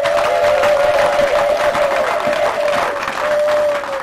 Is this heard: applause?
yes